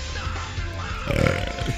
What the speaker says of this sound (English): That was definitely an 8th beer belch.